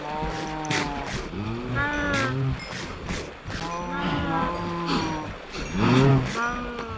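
Cows on an automatic Minecraft Bedrock Edition farm, giving a steady stream of overlapping low moos, several animals calling close by one after another.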